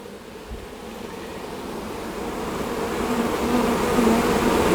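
Honey bees swarm over a brood-filled hive frame while the hive boxes are being swapped, their steady, close buzzing swelling gradually louder with no voices.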